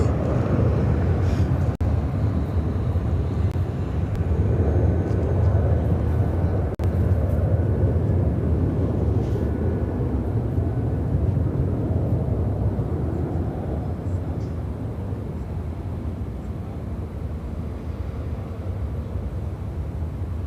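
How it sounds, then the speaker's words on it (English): A United Airlines Boeing 767-300ER taking off at O'Hare, a broad jet roar that is strongest early on and slowly fades as the aircraft climbs away, with wind buffeting the microphone. "This is United Airlines 929 taking off to London Heathrow on the"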